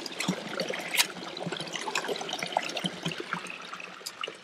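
Water runs from a spring or fountain in the small Spanish town of Uclés, Cuenca, a close, steady trickling and splashing with bright, irregular droplet spatters and no talk.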